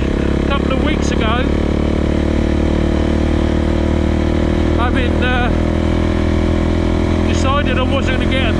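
A KTM 690 SMC R 2020 single-cylinder supermoto engine runs loud and steady close by, with a constant throbbing drone while someone talks over it in short bursts.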